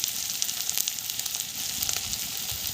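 Chili, turmeric and cumin powders fry in hot oil with a steady, close sizzle full of fine crackles and small pops, holding at an even level throughout.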